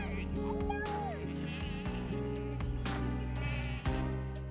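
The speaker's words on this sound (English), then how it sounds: "As the farmer calls out to her beloved sheep, who come running eagerly for hugs" Sheep bleat on a farm as they run toward their owner calling them, several overlapping bleats over a steady musical background, no voices.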